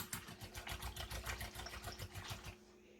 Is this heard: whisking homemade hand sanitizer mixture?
yes